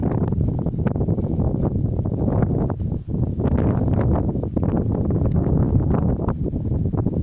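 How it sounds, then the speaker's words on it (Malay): Strong wind at an old coastal fort buffets the microphone in a loud, continuous roar with gusty bursts throughout. "Ini angin kencang"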